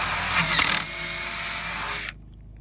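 A drill spins at high speed with a steady whine while drilling pocket holes in wood, briefly straining at the start, then cuts off abruptly into silence.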